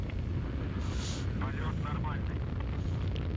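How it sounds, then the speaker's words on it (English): A rocket engine roars steadily during launch ascent while carrying four satellites, a dense, continuous rumble that stays even throughout, with a voice briefly audible over it. "The rocket continues its ascent."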